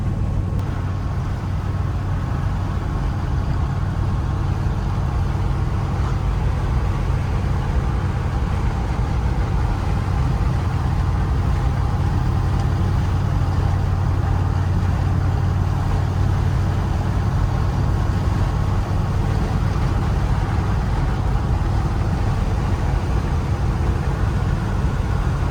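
A 1977 Ford 4x4 barn-find truck runs with its carburetor engine giving a steady, loud, low rumble that stays even throughout, with no talking.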